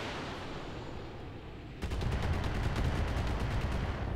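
After a quieter stretch, sudden rapid salvos of missile and weapons fire erupt in the RogueTech mech combat game: dense, loud, repeated impacts that continue to the end.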